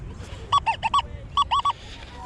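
Beach metal detector giving a signal tone over a target, a short run of bright, high warbling squeaks in two quick clusters over faint background noise.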